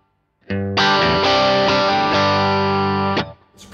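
An electric guitar plays a sustained, ringing chord through an effects chain with the Neunaber Seraphim shimmer reverb switched off, leaving a dry, slightly distorted tone that holds steady for about three seconds before cutting off.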